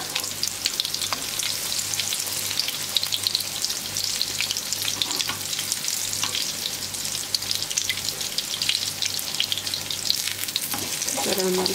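Zucchini fritters (mücver) fry in oil in a pan, a dense, loud, crackling sizzle that runs steadily from start to finish with a few light clinks near the end.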